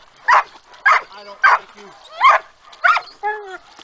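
Dog at a salmon fishing spot in Sitka, Alaska, giving about six short yips and whimpering barks at close range, with someone speaking between them.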